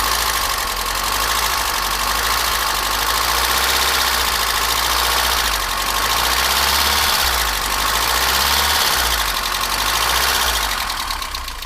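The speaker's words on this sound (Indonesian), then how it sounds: "kalau misalkan klepnya udah bermasalah, HVA-nya udah bermasalah, mesinnya akan bunyi kasar sekali seperti ini nih" A BMW E30 engine with faulty hydraulic valve lifters runs rough at idle, giving a steady, close, loud drone with an uneven knocking clatter throughout and no talking.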